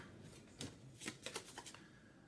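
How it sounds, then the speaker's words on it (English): Fresh 1990 Topps baseball cards being flipped one after another, a run of crisp, close papery flicks and snaps in an uneven rhythm with no talking. "throw away the wrapper, flip the cards"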